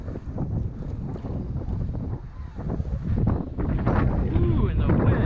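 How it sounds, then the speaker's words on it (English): Strong wind buffets the microphone on a boat in a marsh of floating bog, a rough, gusting roar that swells louder toward the end. "the wind has picked up. Something fierce"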